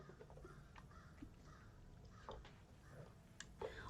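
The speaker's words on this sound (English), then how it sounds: "Oh, the birds are outside cawing." Crows caw outside, heard faint and distant as a few scattered calls over a steady low room hum.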